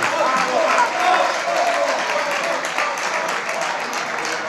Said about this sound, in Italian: maestro di San Marco Zanelli, Torinese Doc, un applauso grande ragazzi.